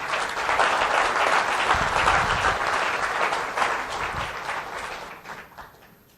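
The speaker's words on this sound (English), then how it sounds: "a round of applause, please" Audience applause at a conference talk on entrepreneurship, a full room clapping steadily and fairly loud for several seconds before tapering off.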